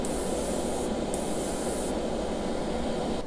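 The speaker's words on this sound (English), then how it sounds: "We're gonna start by spraying the bottom with a very light coat." Continuous hiss of a spray can releasing a light coat of paint in a steady stream onto a Hot Wheels Redline '55 Nomad toy car, with brief changes in the spray's pitch partway through.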